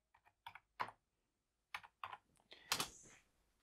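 Someone types a password on a computer keyboard, producing about a dozen quiet, close keystroke clicks in uneven bursts with a short pause in the middle and a final firmer tap, alone in a quiet room.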